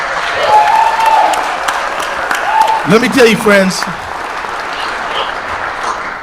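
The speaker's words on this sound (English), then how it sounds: "I think we all deserve a big applause as the state of Minnesota" Applause from a political convention audience rises around a speaker's voice, a dense steady patter of many hands clapping through the hall, with the speaker talking over it and a brief louder burst of voices midway.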